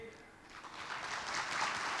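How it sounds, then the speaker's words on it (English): Audience applause follows a speech by the RI President at a formal gathering, a broad wash of clapping that swells steadily and grows louder toward the end. "A big round of applause for RI President for the very insightful and inspiring speech."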